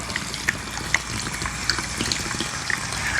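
Almond milk pours into a blender for a protein smoothie, a soft continuous liquid stream with small splashy bubbles, close and fairly quiet.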